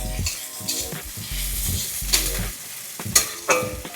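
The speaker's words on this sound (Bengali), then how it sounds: "আদা বাটা দিয়ে একটু নাড়াচাড়া হলো" Bottle gourd cooked with ginger paste is stirred in a pan, a close steady sizzle broken by repeated scraping strokes of a spatula against the metal and a few sharp clinks near the end.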